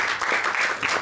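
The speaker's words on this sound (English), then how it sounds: "I think you should give a round of applause to your club." A short burst of audience applause for a club, many hands clapping together at moderate volume for about a second.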